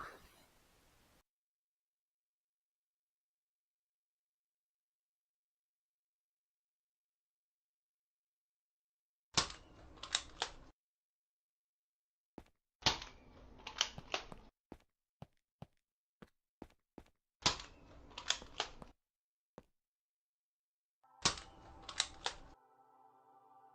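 Separate bursts of sharp mechanical clicks and snaps come in clusters with silent gaps between them: Nerf blaster shots and reloads in Minecraft.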